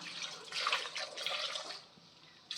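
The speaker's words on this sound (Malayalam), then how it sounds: "ആവശ്യത്തിനുള്ള വെള്ളം ഒഴിച്ചു കൊടുക്കാം" Water poured into a pressure cooker holding turmeric and other ingredients: a close, gurgling splash of running liquid for about two seconds, then it fades, with a brief second splash at the end.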